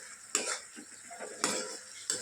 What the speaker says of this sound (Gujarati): તેમાં ચમચો ફેરવતો રહેવાનો એટલે નીચે ચોંટી ન જાય